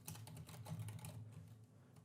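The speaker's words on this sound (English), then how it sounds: "So we'll just type minus 10." Quick, light keystrokes on a computer keyboard while writing Unity game code, a short burst of close clicking taps with no talk.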